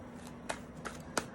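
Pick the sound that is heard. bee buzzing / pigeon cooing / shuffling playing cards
shuffling playing cards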